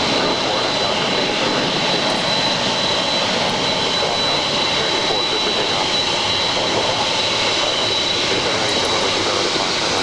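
A jet airplane at Los Angeles LAX airport roars steadily and loudly for the whole stretch, a broad sustained engine rumble and hiss with no break.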